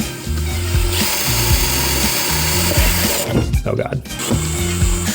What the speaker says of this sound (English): drilling into a motherboard always feels a little sketchy